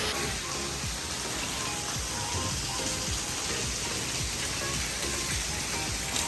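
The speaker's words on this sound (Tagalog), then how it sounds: "Maulan pa rin po." Steady rain pattering on a surface at a beach resort and water park, a dense continuous hiss with scattered drops, close and unbroken throughout.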